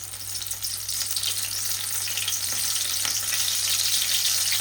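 Soya bean kabab pieces fry in hot oil with a steady, dense sizzle that holds close and loud throughout, with no voices.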